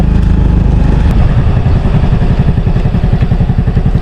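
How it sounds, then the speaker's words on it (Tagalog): A motorcycle engine idles close by with a steady, loud, throbbing putter and rapid rhythmic pulses throughout. "Hanap muna tayo silong para magpainit ng motor."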